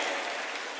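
An audience claps steadily for guests seated in the front row at a Model UN conference session, a continuous wash of many hands, moderately loud and slightly fading toward the end.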